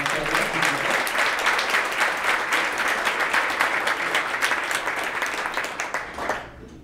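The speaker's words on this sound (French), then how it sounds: "Peut-être une main d'applaudissement pour ces donateurs-là" Audience at a centenary recognition evening of the Société Provancher applauding donors, a steady full round of clapping that stays even and then tapers off at the close.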